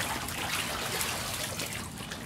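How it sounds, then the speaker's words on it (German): Water poured over a stone statue trickles and runs down its surface, a faint, steady, soft splashing hiss heard up close. "Das Wasser läuft an der Statue herunter"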